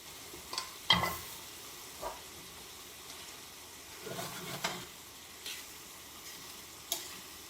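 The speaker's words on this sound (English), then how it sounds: "we'll mix that through, cook it down for a couple minutes" Green onions and dill stir-fried in a pan for Vietnamese fish with rice vermicelli, a steady soft sizzle broken by occasional scraping stirs of a utensil against the pan, close and without talk.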